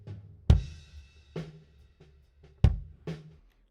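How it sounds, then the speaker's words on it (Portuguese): An unequalized kick drum, heard as originally recorded, thumps alone in four deep, close hits, two stronger and two softer, with short decays and quiet gaps between. "Esse aqui é o som do bumbo como ele foi captado"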